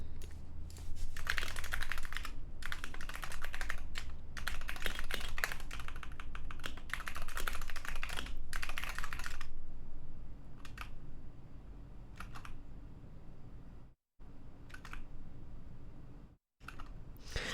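Rapid, uneven keystrokes clatter on a computer keyboard, loud and close, in dense bursts for the first half and then thinning to sparse taps with short pauses, no voices present.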